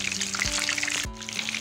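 Raw beef mince kofta frying in hot oil, a dense crackling sizzle close by, with a couple of brief clunks as pieces are added or turned, no voices.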